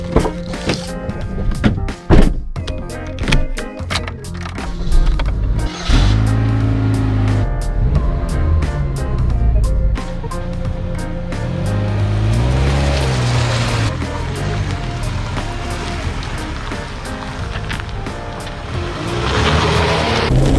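A Pontiac Sunfire engine hums and revs up and down while driving, loud and close, with a few sharp knocks early on.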